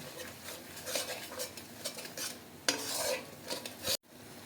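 Kashmiri chilli powder and salt being stirred in a pan while cooking a cauliflower and paneer vegetable dish, with steady scraping and clinking of a spoon against metal and a sharp knock near the end before it cuts off.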